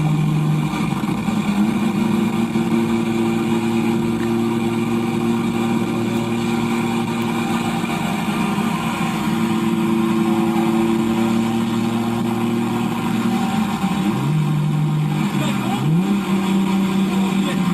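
A stock-fuel, single-turbo race car roars loud and steady at full throttle, its sustained drone briefly dipping and rising in pitch near the end as it shifts.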